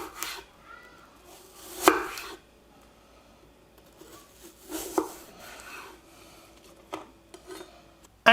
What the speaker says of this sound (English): And then we're going to cut it into kind of like 3 to 4 millimeter thick slices.